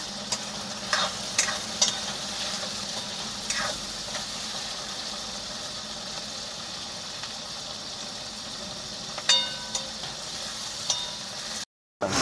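Onion and tomato fry in a pan with a continuous soft sizzle and occasional stirring clicks, a low idling hum beneath, steady and close.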